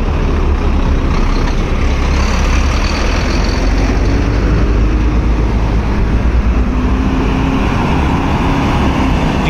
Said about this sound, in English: These are the trucks coming out from the tunnel.